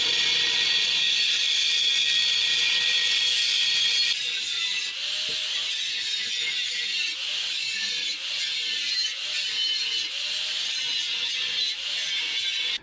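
A power tool is cutting and grinding metal on the mounting seat of a Volvo engine mount. It gives a continuous loud, high whirring grind with small shifts in pitch and pressure, and no talking.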